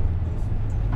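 Audi RS5 V8 engine running steadily with a low, constant rumble while its gearbox is tested, loud and close with no clear gearshift break, no talking.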